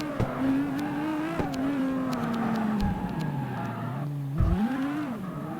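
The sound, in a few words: car drifting with tire skid in video game CarX Street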